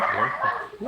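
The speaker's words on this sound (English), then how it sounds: "That is a dog." A dog barks in a short burst of yips with a slightly whining edge, close by and fairly loud, while a voice speaks briefly over it.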